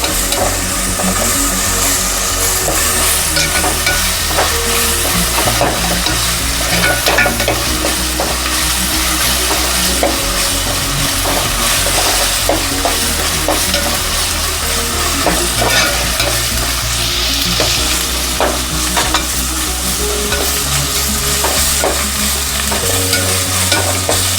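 Mushroom pickle masala fries loudly in a pan, a dense sizzling hiss with repeated scraping and clinking of the stirring spoon throughout, close and unbroken, with no talk.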